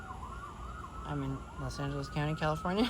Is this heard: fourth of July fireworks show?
no